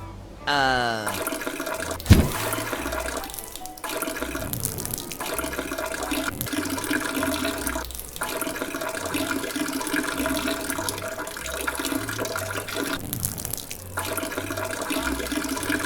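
Toilet flushing with running water in the video game Manual Samuel, a steady rushing wash that carries on for many seconds with a few brief dips and a sharp clunk early on.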